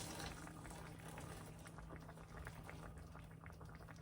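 A steady bubbling, hissing rumble of water boiling, close and continuous, with a faint low hum underneath.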